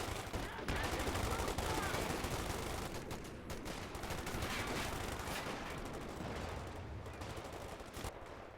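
Dense gunfire from Thompsons and machine guns such as the MG34 crackles almost nonstop in a Company of Heroes-style strategy game battle, bursts layered over one another with an excited commentator talking throughout.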